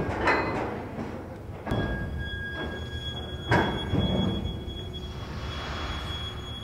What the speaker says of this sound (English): Here the train pulls back after leaving five carriages on the ferry, and then moves forward onto the next track.